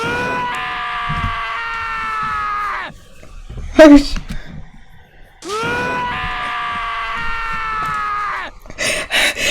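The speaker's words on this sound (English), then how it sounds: "As Taka's sad screams invaded our skull, we were once forced again to realize." Taka's screams played as a sound file in a video game, two long, loud, wavering harmonic wails, each about three seconds, separated by a short squeaky burst and followed by brief noisy bursts at the end.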